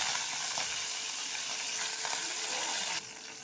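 Curry leaves dropped into hot oil with popped mustard seeds and dried chillies for ginger pickle: a dense, steady hiss of frying, close and continuous, softening slightly near the end.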